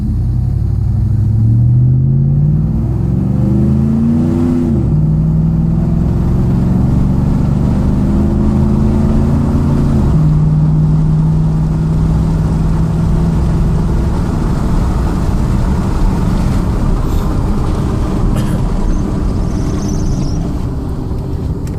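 A 2006 GMC Sierra pickup with a 4L60E automatic transmission, a Corvette servo and 35-inch tires accelerating at quarter throttle: engine drone climbs in pitch through several long-held gears, each upshift dropping the tone, then settles into a steady road rumble.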